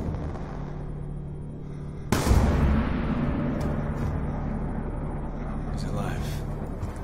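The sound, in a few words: gunshot in video game Call of Duty Black Ops 2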